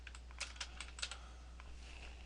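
Quick taps on a computer keyboard as a channel name is entered into an IRC chat client, a short burst of crisp, close keystrokes with brief pauses over a low steady hum, no talking.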